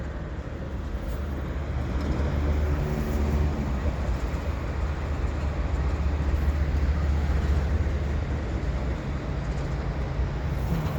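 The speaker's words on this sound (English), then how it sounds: "Lots of container trains here." A CN container stack train rolls past steadily in winter, a continuous loud low rumble of wheels and cars sustained throughout without a break.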